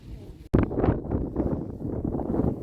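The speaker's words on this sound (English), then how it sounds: "as you can probably see, it's still a tad windy" Gale-force wind on a fenland drain buffets the microphone in a deep, continuous rumble that bursts in suddenly after a brief moment of quiet and stays steady and fairly loud.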